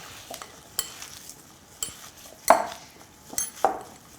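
Lamb kebab mince being worked by hand with fresh coriander, a handful of soft wet squelches and slaps spaced irregularly at close range, with quiet pauses between and no speech.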